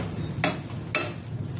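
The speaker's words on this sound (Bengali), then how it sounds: "এই পিঠটা আমি লাল করে ভেজে নেব" Prawn toast frying in a pan, a steady soft sizzle with two brief scraping stirs or turns of a utensil, no talk over it.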